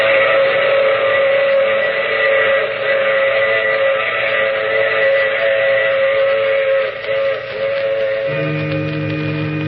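A train sound effect from a 1951 radio mystery drama: a continuous, muffled rumble with sustained whistle-like tones, steady and fairly loud throughout, with a low tone shift near the end.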